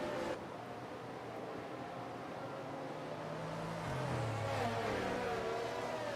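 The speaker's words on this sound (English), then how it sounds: "The noise of that Aston Martin is absolutely gorgeous. God love the engine note of that car." Aston Martin Formula 1 car engine in the F1 22 racing game at Austria, a moderate steady engine drone with pitch shifts as it accelerates and changes gear, heard alone.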